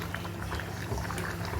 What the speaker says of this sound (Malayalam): അപ്പോൾ നമ്മുടെ ചിക്കൻ കറി നന്നായിട്ട് തിളച്ച് മറിയുകയാണ്